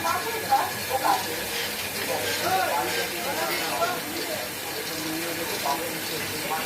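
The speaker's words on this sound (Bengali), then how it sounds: "এবং রোস্টারে মুড়ি ভাজা হচ্ছে।" A puffed rice roaster machine frying white rice, with hot kadai pans in the setup, giving a continuous steady hiss and roar while a person talks over it.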